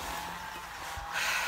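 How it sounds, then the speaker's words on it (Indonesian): A continuous engine drone with a broad rushing hiss, steady and close, rising slightly louder near the end. "Itu bunyi mesin."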